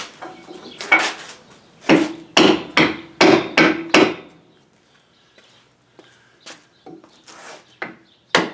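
Barricade rooftop parts being tapped together on a Jeep Wrangler TJ: a run of sharp, close knocks in a quick, uneven rhythm, then a few softer, scattered taps.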